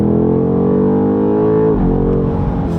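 Loud, steady engine note of a BMW M5 G90 heard from outside the car, rich low harmonics holding a constant idle-to-light-rev drone before dipping slightly near the end, with no talking.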